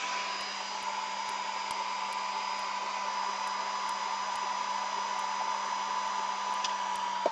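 Hair dryer blowing steadily to dry a gelli plate print, a loud continuous whooshing roar with a constant tonal hum throughout and no talking.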